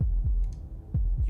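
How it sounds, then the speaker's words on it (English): Heartbeat thuds from the video game Slay the Princess, a slow lub-dub of deep, soft low pulses, two pairs repeating over a faint hum, close and alone. "That was the sound of a heartbeat, followed by another"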